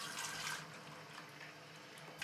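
Water runs into a film developing tank being refilled for washing 4x5 negatives, a steady faint splashing flow that holds throughout with no talk.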